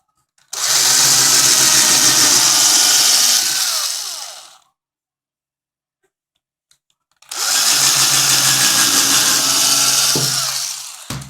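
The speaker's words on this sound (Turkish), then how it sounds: "şarjlı matkapla" A cordless drill whirs loudly through a wooden beehive frame bar in two bursts of about four seconds each, separated by a short silence, close and harsh.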